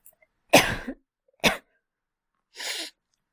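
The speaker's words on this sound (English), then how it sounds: "My cold got worse and I can't stop coughing." A girl with a cold gives three short, separate coughs, close and fairly loud, spaced about a second apart with quiet gaps between, the last one breathier and softer.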